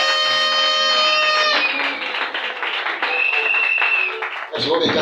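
A church congregation bursting into applause during a service, a swelling wash of clapping that follows sustained organ-like tones and continues steadily, with voices speaking over it.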